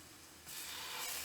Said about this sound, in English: Let it fry in that for about a minute.